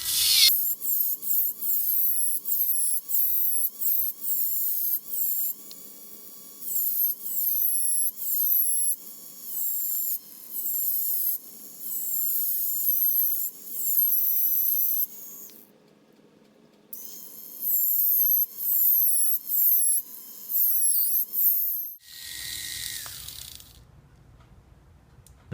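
A carbon fiber reinforced Mini 4WD plastic part is trimmed and sanded with a small high-pitched rotary tool, whining in repeated short bursts with brief pauses and pitch dips as it bites into the piece, close up.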